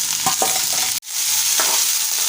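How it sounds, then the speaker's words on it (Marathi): Cleaned cauliflower goes into a pan of softened onion and fries with a loud, close sizzle and stirring scrapes, briefly cutting out for an instant before the hiss returns. "आपण इथे साफ करून घेतलेला फ्लावर टाकूया"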